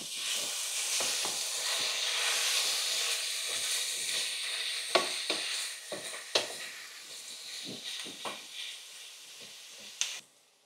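Pieces of pork browning in a pan for a Spanish pork stew, a soft, continuous sizzle and hiss with scattered pops and occasional clinks of a utensil, fading slightly toward the end, with no voices.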